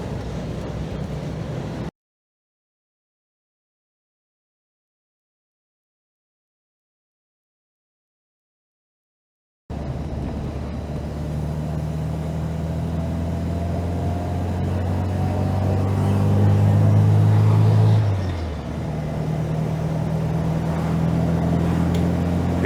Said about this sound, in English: It's quite a lot of wind noise, certainly with the sunroof being the way it is.